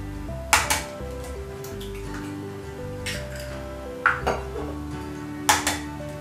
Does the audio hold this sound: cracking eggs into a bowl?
yes